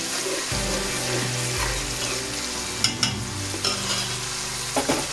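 Chopped onion sizzles in hot oil with browned garlic in a pan for a traditional lamb chop bhuna: a steady, close frying hiss with a few sharp clatters of stirring near the end.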